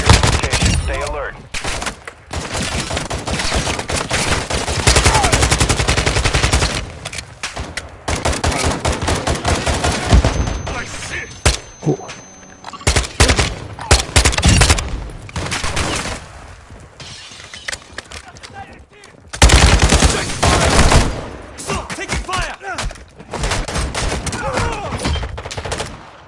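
Heavy gunfire erupts in Call of Duty Warzone DMZ, loud rapid bursts and volleys continuing with brief lulls, mixed with shattering impacts and intermittent game voices over the fighting.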